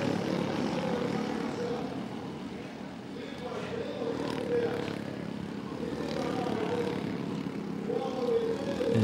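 Racing karts accelerate in a cadet final at the Copa Brasil de Kart, their engines making a steady, droning buzz that rises and falls slightly. A commentator talks over the engines.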